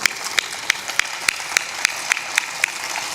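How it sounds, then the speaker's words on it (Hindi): Women in an audience clap together in a steady rhythmic beat, one sharp clap roughly every third of a second. The claps are loud and close above a constant hiss of background noise. "महिलाओं की तालियों में तो दम है"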